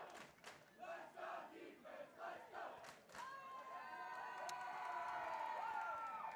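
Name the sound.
lively Pine Ridge student section crowd at football game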